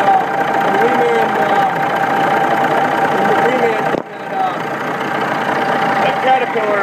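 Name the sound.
Caterpillar Reman motor running in Western Star truck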